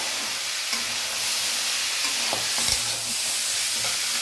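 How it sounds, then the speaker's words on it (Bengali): Chickpeas frying in a pan with potato and onion give a steady, close sizzle with scattered stirring scrapes and a few soft knocks. "এই আলু পেঁয়াজ সাথে ছোলাটাকে ভালো করে ভেজে নেব।"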